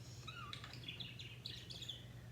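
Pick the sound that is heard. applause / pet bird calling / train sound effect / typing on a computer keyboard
pet bird calling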